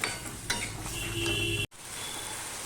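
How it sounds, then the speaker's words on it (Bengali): Spiced masala with potatoes stirring and frying in a pan after water was added, with a steady sizzle, scraping utensil strokes and a brief tonal squeak, then a short break before the frying resumes. "এবার মশলাটা আমি কষিয়ে নেব আলুর সাথে"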